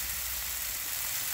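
Chicken thighs sizzling on a Blackstone griddle set to medium low, a steady dense hiss of frying fat that holds even and close throughout the brief moment, with no voices.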